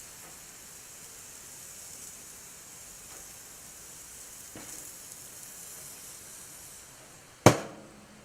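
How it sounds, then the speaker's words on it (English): Lamb burgers sizzle steadily in a hot pan, a soft continuous frying hiss with a few faint ticks, then a sharp loud clack near the end as they are flipped to sear. "Flip the burgers one more time just to sear that salt and pepper onto them"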